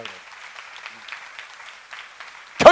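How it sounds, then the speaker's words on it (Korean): Audience members at a church seminar clap in a soft, scattered patter that continues at low volume, ending in a sudden louder thump near the end. "박수로 하세요."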